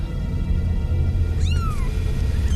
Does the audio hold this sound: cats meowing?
yes